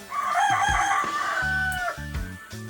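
A rooster in rural Jamaica gives one loud, close crow, followed by short rhythmic clucking and scratching sounds.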